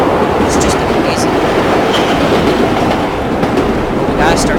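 Loud, unbroken rumble of subway cars rolling through a tunnel on the NY Flushing Line 7 in World of Subways 4, with light metallic squeaks over the steady roar.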